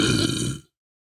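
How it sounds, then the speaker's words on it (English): A person lets out a single loud, rough burp after swallowing air, lasting just over half a second before cutting off into silence. "I can just swallow air and burp."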